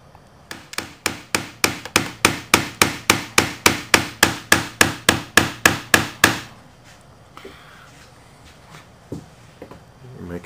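Plastic hammer face tapping a guitar fret down into a radiused fretboard during kit assembly: about twenty sharp, evenly paced knocks in a steady run, then quiet room tone with a few faint handling sounds.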